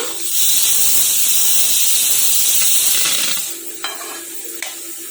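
A ridge gourd, moong dal and coconut curry cooks in a pan with a loud hissing, steamy sizzle that drops to a softer bubbling simmer, broken by a couple of stirring scrapes.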